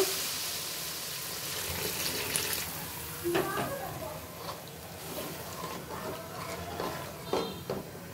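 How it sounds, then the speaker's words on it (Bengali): Water poured into a simmering fish curry, a steady broadband splash and hiss lasting several seconds with occasional clinks of a utensil against the pot. "এবার জল দিয়ে দিব পরিমাণ মতো।"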